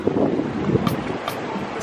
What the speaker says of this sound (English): The sound of the waves are so therapeutic